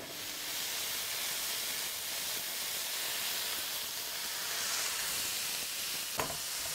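Garlic sizzles in a hot pan with pork for a stir fry, a steady close frying hiss throughout with a single sharp knock near the end.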